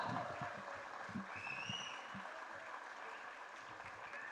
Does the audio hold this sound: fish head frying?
no